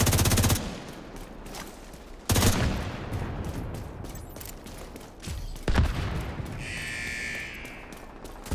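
Video game SMG gunfire crackles in sharp loud bursts, a long volley at the start, another around the two-second mark and a short one later, with quieter game ambience and a high electronic tone between.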